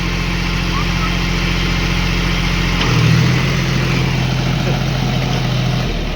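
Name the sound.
tractor engine idling, not switching off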